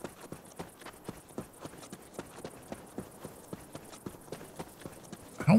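Horse hooves clip-clopping at a steady, regular rhythm in Cyberpunk 2077 while riding across a desert, about a dozen evenly spaced beats, moderately close and clear, ending in a louder thump.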